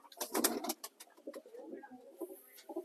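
Large pigeons of a single breed coo in soft, repeated throaty calls, with a burst of fluttering and rustling early on, fairly close by.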